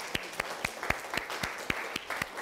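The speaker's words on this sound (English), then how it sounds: "can I have a quick round of applause for my wonderful guests?" Slow, sparse handclaps from a small studio audience on a local TV talk show, about nine distinct claps in a steady rhythm, fairly faint, with no talk.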